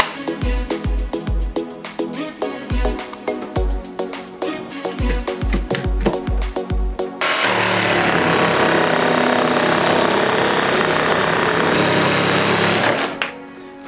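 A jigsaw cutting a wooden board for a small vegetable box. First a loud run of rhythmic thumping strokes, then a continuous harsh buzzing cut that holds steady for several seconds before stopping abruptly.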